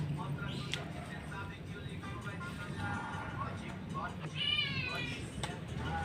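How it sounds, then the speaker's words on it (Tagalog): A cat begging for food gives a few short meows, then a longer wavering meow near the end, heard close against a low steady background hum. "Hinihingi na naman yung pusa ng pagkain."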